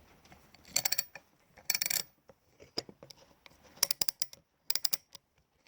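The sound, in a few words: Snap-on military tool being dropped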